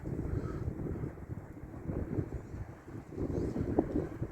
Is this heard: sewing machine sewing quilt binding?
no